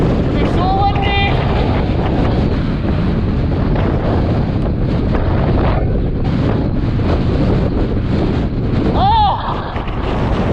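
Strong gusting wind buffets the microphone on a bike ride, a constant loud roar with a short squeaky chirp near the end.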